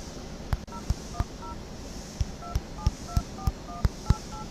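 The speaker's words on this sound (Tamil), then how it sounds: "இப்போ வந்து நான் ஃபோன் பண்ணுறேன் பாருங்க." A phone app dials a call with a run of about ten short, sharp keypad tones in uneven rhythm, each beep crisp and close over faint background hiss.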